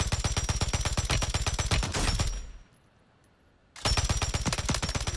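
A light machine gun fires in Warzone 3: a loud, close, rapid burst of about two seconds, a silent gap of roughly a second and a half, then a second sustained burst.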